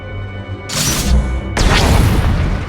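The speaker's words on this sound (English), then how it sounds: "That's the sound of my flux cannons incinerating one of your capital ships." In Star Wars: The Old Republic, two heavy booming blasts, one short and one longer with a rushing roar, hit close and loud as flux cannons fire and destroy a capital ship.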